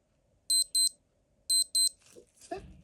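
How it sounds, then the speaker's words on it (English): A Casio ALT 6200 digital watch sounds its alarm: two pairs of sharp, high electronic beeps in a quick double-double pattern, close and clear, followed by faint handling clicks. "Do you want to hear the alarm?"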